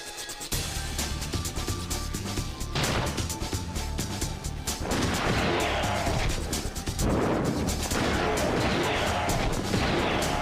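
Rapid arcade light-gun fire in the Vampire Night shooting game, loud bursts and crashes over game music and effects, continuing steadily through the whole stretch.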